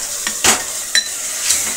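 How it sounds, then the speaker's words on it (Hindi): Food frying in a pan is stirred and mixed at home, with a steady close sizzle broken by a few sharp scraping strokes. "पहले इसको अच्छे से मिक्स करके"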